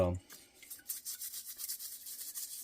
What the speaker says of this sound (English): I just go along and just scrub everything off.